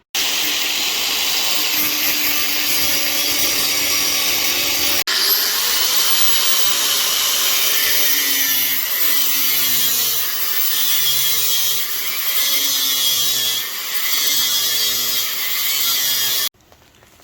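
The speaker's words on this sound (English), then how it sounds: "now I'm just cutting them off with the angle grinder" An angle grinder cuts lengths of scrap steel bar into 3-foot pieces, a loud sustained whine that shifts pitch midway, with a steady pulsing grind through the second half before stopping abruptly near the end.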